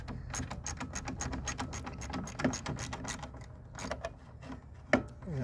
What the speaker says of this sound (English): hold the end of the ratchet in place and start to work these fasteners loose